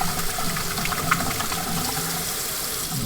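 Running tap water pours steadily as hands are rinsed at a kitchen sink, a close, continuous broadband splash with no speech.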